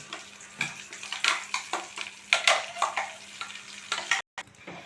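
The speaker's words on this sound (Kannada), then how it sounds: "ಇವಾಗ ನಾನು ಇದು ಚಟ್ನಿ ಅನ್ನೋದು ಮಿಕ್ಸ್ ಮಾಡ್ತಾ ಇದ್ದೀನಿ" A spoon stirs coconut chutney with a fresh tempering in a pan, making repeated scraping, sizzling strokes in an irregular rhythm, close and moderately loud, with a brief dropout near the end.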